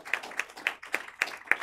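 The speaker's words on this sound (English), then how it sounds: "Let's give our panel a round of applause." An audience claps for a conference panel with six sharp, evenly spaced claps, quiet and close, and no talking over them.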